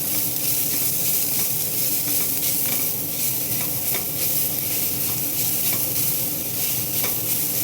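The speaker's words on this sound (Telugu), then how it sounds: "ఇప్పుడు ఇలా వేసి వేయించేద్దాం." Coconut curry tempering with chilli flakes frying in a pan, a steady close sizzle and crackle with occasional stirring scrapes throughout, no voices.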